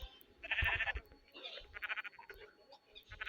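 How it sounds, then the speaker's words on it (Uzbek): Sheep bleat in a few loud, wavering calls, with the most prominent one early on and shorter calls following. Faint background noise runs beneath them. "Bu yerda qo'ylar bor ekan"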